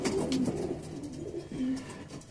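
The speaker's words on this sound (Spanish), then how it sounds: "Las palomas se ven parejitas, la verdad." Pigeons coo several times in low, throaty repeated calls, fairly close, with some faint background noise from a racing-pigeon loft during a young-bird race event.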